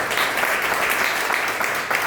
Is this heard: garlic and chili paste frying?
no